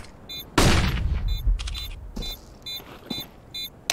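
A flashbang grenade in Counter-Strike: Global Offensive goes off with one loud, sudden bang that decays into a rumbling tail, followed by scattered lighter clicks and game noises.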